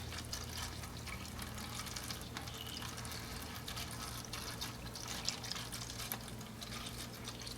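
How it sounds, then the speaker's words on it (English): Water trickles and splashes steadily into a microgreen tray of seed starter soil for the initial watering, a soft continuous pouring and dripping with a low background hum. "I'm filling it kind of full this time because this is the initial watering"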